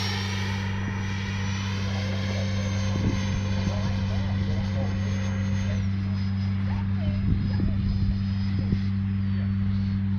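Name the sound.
FMS Integral 80mm Sharky RC jet flying a low pass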